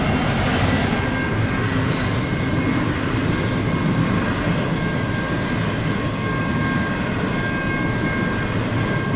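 A train rumbles past on the tracks, a loud continuous roar with rattling wheels and faint metallic squeal, no voices.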